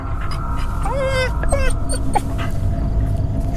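A dog whimpers in several short, high whines close by, over a steady low background rumble.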